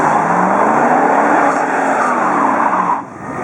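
TransAm dragster at a Vichy drag race launching hard with wheelspin, a loud, close, sustained roar and tire squeal that rises in pitch, then cuts away abruptly near the end.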